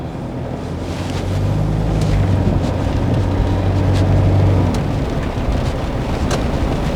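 A used Toyota Fortuner SUV from Delhi on a test drive, heard from inside as a steady, loud rumble of road and wind noise with a low engine drone that swells in the middle and then eases.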